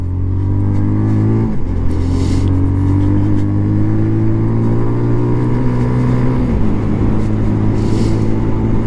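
A Benelli Leoncino 125 motorcycle rides along a road with a loud, steady engine drone close by; the pitch climbs through the gears, with clear shifts near the start and again later.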